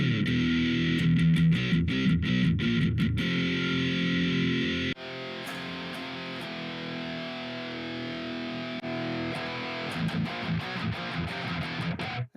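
A heavily distorted electric guitar plays through a BIAS FX metal amp tone, loud chugging and sustained chords with sharp palm-muted bursts, a brief pause midway, then more riffing.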